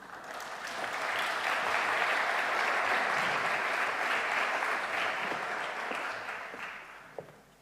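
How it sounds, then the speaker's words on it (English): An audience applauds steadily at an awards ceremony stage welcome for Sweden's Minister of Finance, a dense, sustained clapping that swells in, holds for several seconds, then tapers away, with no talk over it. "Please welcome her with a warm applause"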